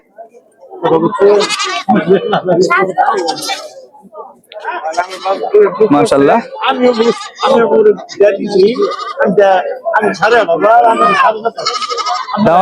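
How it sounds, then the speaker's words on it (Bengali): Small local goats bleat at a weekly goat market in Bhaluka, Mymensingh, with scattered bleats rising among near-continuous talk from people close by. "বেশ সুন্দর একটি ছাগলের হাট দেশি ছাগলে বেশি উঠে এখানে"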